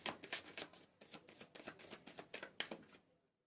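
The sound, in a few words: drawing and shuffling tarot cards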